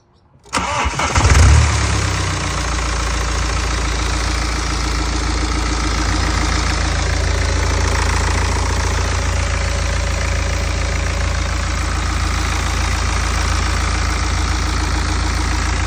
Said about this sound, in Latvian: Nu, ko skatāmies, vai ķēdīte nograbēs vai ne? Startē, jā?